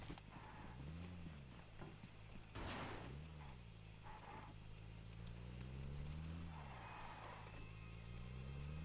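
A vehicle engine runs steadily in PUBG Mobile on the Georgopol map, rising and falling in pitch, with a few door clunks and clicks and no talk.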